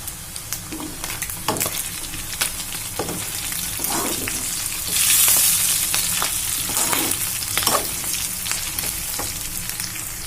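Chicken frying with long-cut green chillies in a pan, a steady loud sizzle with repeated stirring scrapes throughout, close up and without talk.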